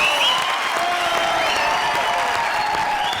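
A studio audience on a Hindi comedy show gives a sustained, dense round of applause for the Indian Idol 4 winner, loud continuous clapping with some cheering and no talk.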